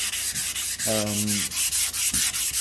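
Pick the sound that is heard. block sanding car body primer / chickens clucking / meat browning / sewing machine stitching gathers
block sanding car body primer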